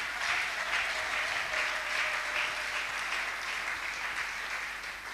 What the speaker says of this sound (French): On peut l'acclamer.